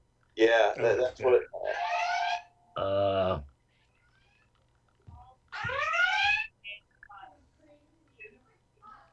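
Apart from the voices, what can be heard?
phone emergency alert alarm going off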